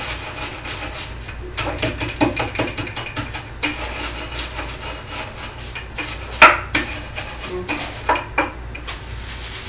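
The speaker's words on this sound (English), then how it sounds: "So I'll use the little ladyfinger cookies, and they're nice and absorbent" Ladyfinger cookies being crushed by hand for a peach galette, with a series of dry, close crunching and rubbing bursts in an irregular rhythm, fairly quiet with no talking.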